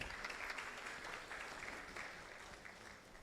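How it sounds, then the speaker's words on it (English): Applause from an audience at a swearing-in ceremony, a continuous, faint wash of many hands clapping from a distance that tapers slightly toward the end. "Another round of applause, please."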